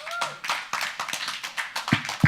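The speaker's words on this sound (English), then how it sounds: "I want you to give a big round of applause to our panel" An audience at a Sunday evening student ministry gathering gives a round of applause, a steady crackle of many hands clapping at close range, with a few sharper claps standing out near the end.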